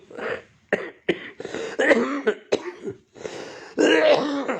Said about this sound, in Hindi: मैं तो खांसी जुकाम से पीड़ित हूँ।